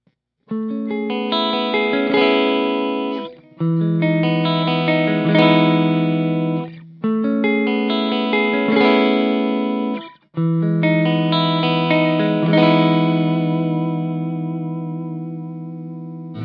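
Distorted electric guitar chords through a Bad Cat Cougar 50 tube amp ring out in four sustained strums with brief gaps, rich and bright, the last chord left to decay slowly.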